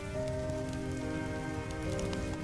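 Heavy rain pours down in a continuous dense hiss of drops hitting surfaces, loud and unbroken, with sustained musical tones running underneath.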